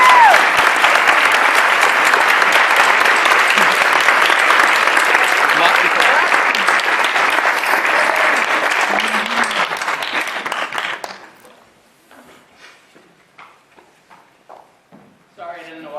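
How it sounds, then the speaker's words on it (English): Sustained audience applause fills the room at an awards gala, loud and steady for about eleven seconds before stopping abruptly, followed by quiet room sounds and a few faint movements. "Please join me in a round of applause."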